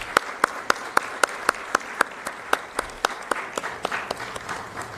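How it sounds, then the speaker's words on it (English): Applause from a crowded auditorium audience welcoming a guest professor at a design week event at Karnavati University, Ahmedabad: a steady, moderately loud stretch of rhythmic clapping lasting about five seconds, with no talk over it. "Please, a big round of applause."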